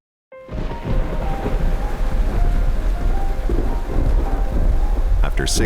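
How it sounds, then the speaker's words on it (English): Rain and a thunderstorm arrive in northern Kenya: heavy rain hisses steadily while low thunder rumbles underneath, starting abruptly and staying loud and continuous, with a brief sharper crackle near the end. "the rains have finally arrived in the north"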